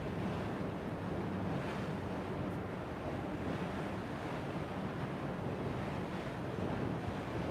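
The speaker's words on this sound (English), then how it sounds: "it's so windy right now that it's a little bit chilly" Strong wind buffets a microphone on a cruise ship balcony, a constant loud roar of gusts mixed with the wash of sea below, steady and unbroken with no voices.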